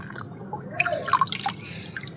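Water drips from freshly washed hibiscus leaves in a scattered run of small, close drops with uneven spacing, fairly quiet and with no voices.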